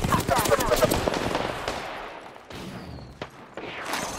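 Automatic gunfire in an Apex Legends battle royale match crackles in dense, rapid bursts over the first two seconds, then returns as sharper, scattered shots against the game's ambient noise.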